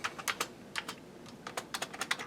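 Keys tapped on an Amiga 1200 keyboard while testing it, a series of sharp plastic clicks in uneven bursts, close and fairly quiet with no talking.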